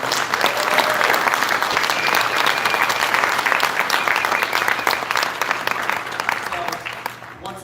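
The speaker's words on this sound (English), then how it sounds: "once again, round of applause for the team." A large convention crowd at a Mattel Masters of the Universe toy panel at San Diego Comic-Con 2023 applauds the Mattel team, loud, dense clapping that holds steady and then thins toward the end, with some voices mixed in.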